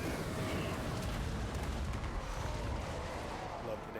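Great cannons and artillery fire in a Total War: Warhammer 3 battle, a dense continuous rumble of booms and blasts that rolls on at a steady level throughout.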